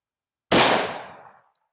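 A single 10mm pistol shot from a 5-inch 1911 fired into a ballistic gel block: one loud, close, sharp crack that rings out and decays over about a second into silence.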